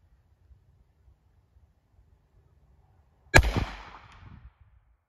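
A single sharp gunshot from a .38 Special revolver firing Fiocchi Defense Dynamics 148 gr ammunition through a chronograph, a loud close crack with a short decaying tail after three seconds of near silence.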